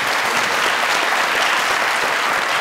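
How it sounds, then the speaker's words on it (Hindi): A studio audience at a comedy show claps in a thick, even burst of applause, loud and close, with no talking over it across the short stretch. "अपने लिए भी ताली बजा देना"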